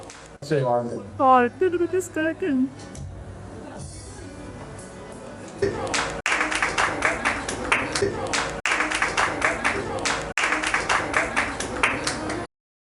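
Audience clapping at a Hindi-Urdu coronation ceremony for award recipients, a steady round of close applause following a man's speech, with talk continuing over it.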